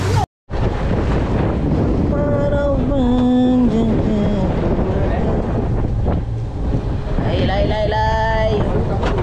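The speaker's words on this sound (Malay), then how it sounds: "Angin kuat weh. Angin padu." Strong wind buffets the microphone on a fishing boat at sea near Batu Putih on a light jigging trip, a loud steady roar with water and engine noise, while people talk over it.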